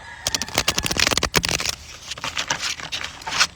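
Tarot cards are shuffled close to the microphone in quick riffling bursts with a short pause in between, and faint animal commotion in the background.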